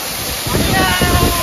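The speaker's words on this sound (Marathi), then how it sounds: "विषय गोल माळशेज घाटचा मेन धबधबा." The main waterfall of Malshej Ghat roars as a loud, continuous broadband rush of falling water, swelling slightly partway through the short stretch.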